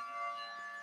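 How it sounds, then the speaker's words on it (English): A siren wails faintly in the background, a steady sustained tone with no talk over it. "It's hard to talk over a fucking siren."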